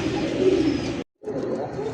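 Bombay pigeons coo in soft, throaty murmurs close by, steady for about a second, then a brief silent break before the cooing resumes.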